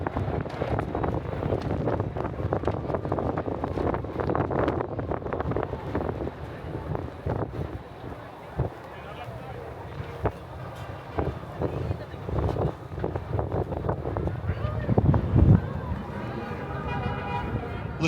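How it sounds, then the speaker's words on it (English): Wind off the Hudson in upper New York Bay buffets the microphone with a steady, loud rumbling roar through the whole stretch, gusting harder near the end, while faint voices and city noise sit underneath. "It's about to get really windy as we get hit by the breeze off the Hudson in the upper New York Bay."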